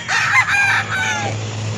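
Roosters and chickens at a poultry market crow loudly and close by, with one strong cock-a-doodle-doo followed by trailing crowing and clucking.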